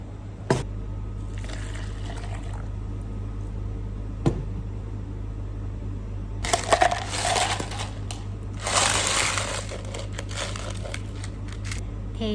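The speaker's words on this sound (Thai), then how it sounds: "แล้วก็เทน้ำพึ่งมะนาวของพวกเราค่ะ ลงไปในแก้วนี้เลยนะ" Honey lime syrup is poured into a glass holding a lime slice while making honey lime green tea, with a couple of sharp clinks and then two splashy, crackling pours, close and clear with no talking.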